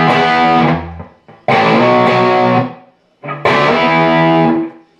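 Distorted bass guitar lick, hitting D and sliding up to E, played three times with brief gaps between loud, sustained phrases, alone and without talk.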